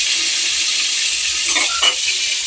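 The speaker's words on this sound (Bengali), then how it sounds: "এই যে ভাজছে টমেটো আর লঙ্কাটা" Tomatoes and green chillies fry in a pan with a steady, even sizzle, close by, broken by a couple of brief stirring scrapes near the end.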